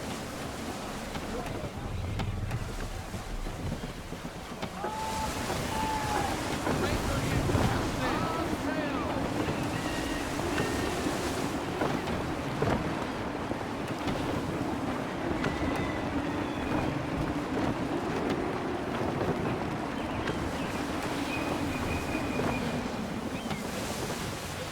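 Gusty wind at sea in a sailing video game, a steady broad rush of wind and surf with a low rumbling bed that swells and eases over several seconds.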